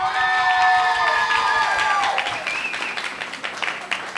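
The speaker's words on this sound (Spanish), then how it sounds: "ahora vamos a hacer un aplauso bien fuerte para esos 10 hijos" A crowd breaks into loud applause mixed with cheers and whoops, the clapping thinning out and fading over a few seconds.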